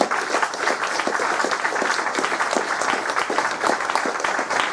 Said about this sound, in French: je vous demande surtout d'applaudir très très très fort nos conférenciers